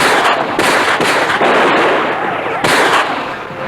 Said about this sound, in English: This is called an Uzi. That's a fully automatic submachine gun,